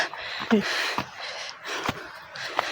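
Heavy breathing of a person out of breath during a walk through a forest toward a waterfall, a series of audible gasps and exhales spaced roughly every half second, fairly close and moderately quiet.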